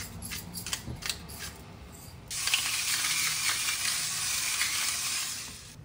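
Salt and pepper season a creamy cauliflower spaghetti sauce. A few light clicks come first, then a bright, steady grinding hiss starts partway through and keeps going close up.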